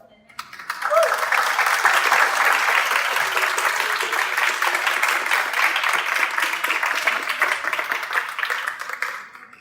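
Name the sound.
applause from audience at a conference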